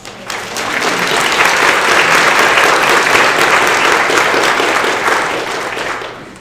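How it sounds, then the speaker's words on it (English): Audience applause at a school Grandparents & Grandfriends Day event, a dense, steady wash of many hands clapping that swells quickly, holds for several seconds, then tapers at the end. "So I think let's all give her a round of applause."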